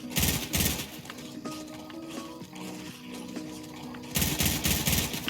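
Fortnite gunfire in rapid automatic bursts at the start and end, with quieter game sounds in between, loud and close.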